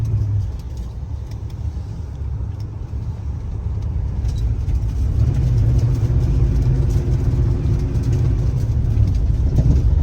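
A 1967 Chrysler 300 engine hums and rises to a steadier, higher rev under road rumble, heard from inside the moving car, with faint rattles; the engine revs unusually high.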